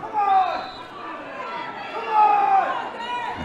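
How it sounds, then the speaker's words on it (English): Stadium crowd at a Meath vs Kildare Gaelic football Leinster Senior Championship match, a steady roar and chatter running underneath a commentator's continuous talk. "The crowd, as you can hear, really getting into this one."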